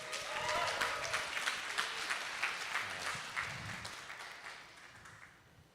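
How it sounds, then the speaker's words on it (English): Applause from an audience at a TouchDesigner meetup livestream event, greeting a presenter: a dense wash of clapping that fades gradually across a few seconds, with faint voices mixed underneath. "So please, please give a huge round of applause to Lyle."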